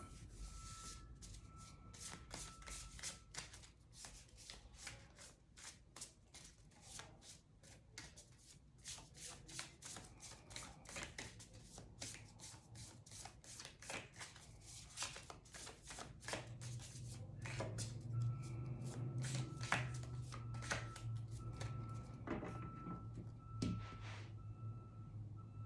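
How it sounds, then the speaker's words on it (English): Tarot cards are shuffled continuously at close range, producing quick riffling and soft slapping bursts in an otherwise quiet room, faint and steady throughout. "while I continue to shuffle these cards"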